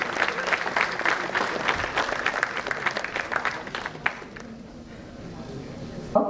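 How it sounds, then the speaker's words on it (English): A conference audience breaks into applause for an honoree invited onto the dais, a dense clapping that tapers off midway into a quieter room with faint murmuring. "May we have a huge round of applause for Mr."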